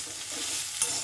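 Chopped banana stem frying and being stirred in a pan, a steady close sizzle with soft scraping throughout and one brief louder scrape near the end.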